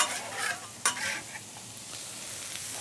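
Steak with its juices, peppers and onions fry on a Blackstone griddle, a bright continuous sizzle with a couple of sharp spatula scrapes and tosses close by.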